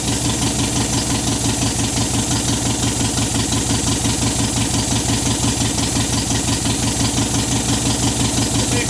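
A classic MGB engine under restoration idles with 55 psi of oil pressure, a loud, close, even mechanical chug with a steady fast rhythm throughout and no voices.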